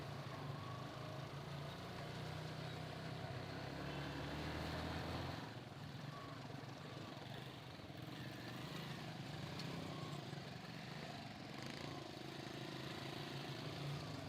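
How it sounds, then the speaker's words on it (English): A motorbike engine drones continuously while carrying three riders through a flooded slum in Haiti. The drone is close and fairly steady, with shifts in throttle and road noise as the bike moves. "This guy's got serious skills on a motorbike, 3 of us, and he's driving up curbs."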